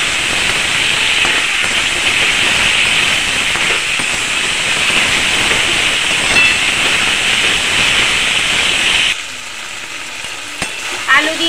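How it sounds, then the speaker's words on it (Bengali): Raw banana and potato sizzle loudly in a pan with green chilli, cumin, coriander, ginger and black pepper while being stirred. The steady, crackling fry runs for about nine seconds, then drops away to quiet. "আলু দিয়ে মশলাটাকে ভালো করে কষিয়ে নিয়েছি।"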